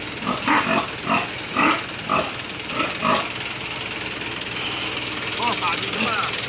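Pigs loaded on a vehicle, a boar and a sow, give a series of loud grunting squeals close by over a low engine hum, then quieter grunts follow.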